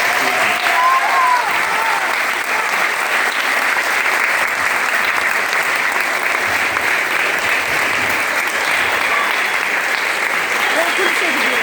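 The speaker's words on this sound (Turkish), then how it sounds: "en büyük alkışı tekrar çocuklarımız için sizlerden bekliyorum" Audience applauding children after their stage performance of the musical Annie: loud, dense, continuous clapping from a large crowd throughout, with a few faint voices underneath.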